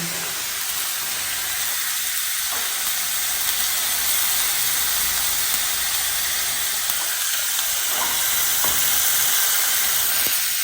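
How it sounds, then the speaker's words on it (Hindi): Onions caramelising in a pan with sugar, lemon and salt give a steady, close, broadband sizzle that runs unbroken throughout, with occasional soft stirring scrapes and no voices. "और ये हमारे अनियन हो जाएंगे चीनी, लेमन, नमक के साथ कैरमलाइज।"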